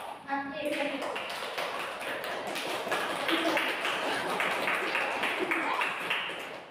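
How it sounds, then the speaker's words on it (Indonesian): Schoolchildren in a classroom clap together in a rhythmic 'tepuk semangat' spirit cheer, crisp repeated claps running steadily throughout while young voices chant along. "ibu pengen kalian tepuk dulu"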